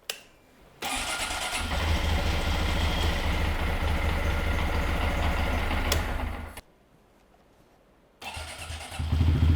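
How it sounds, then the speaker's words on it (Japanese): A Honda Monkey 125 motorcycle engine with its stock muffler starts and runs at a steady idle nearby with a low, even exhaust rumble, cuts off briefly, then fires up again. "まずはノーマルマフラーのエンジン音を確認します。"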